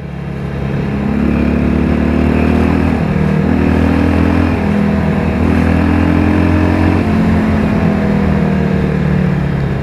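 A Harley-Davidson 883R motorcycle engine idles and revs steadily at close range, a deep throbbing rumble with brief rises and dips in pitch throughout.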